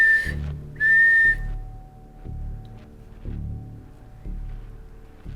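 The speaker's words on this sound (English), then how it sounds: "That was two whistles" Two short, high whistles sound close together at the start, followed by quieter low thumps and faint tones.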